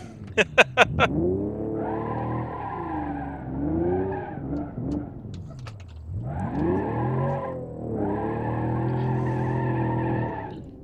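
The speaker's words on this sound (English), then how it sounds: "that's the rear passenger tire that's spinning away a lot of the power" Ibishu Hopper XT-6 truck in BeamNG.drive spins its tires and skids, a loud, strained whining squeal that rises and falls in long sweeping bursts with brief pauses, preceded by a few sharp clunks.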